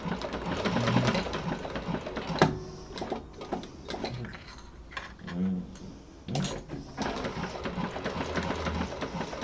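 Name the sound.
sewing machine back stitching around a vinyl connector piece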